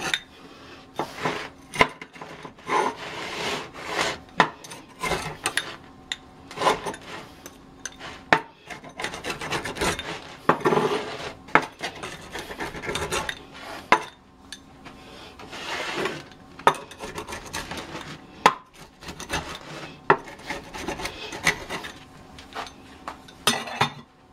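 A knife slicing through a pizza with crusty dough; repeated close, rasping cuts and scrapes in an uneven rhythm, with light clinks against the board or pan and no talking.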